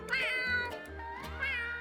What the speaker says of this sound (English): His meow is also higher pitched and sounds more like an actual cat's meow.